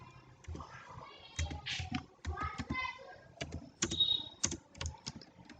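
Typing HTML code on a computer keyboard, rapid irregular clusters of close keystrokes with short pauses, while a voice talks softly in the background.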